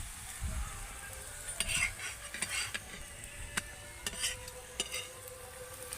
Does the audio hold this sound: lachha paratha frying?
yes